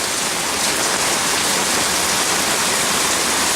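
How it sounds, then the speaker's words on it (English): Hurricane Harvey floodwater rushes beneath a fence in a loud, constant broadband roar of fast-moving water, close by and unbroken, with no voices over it. "I want to see the water making its way under this fence. You can see it rushing through."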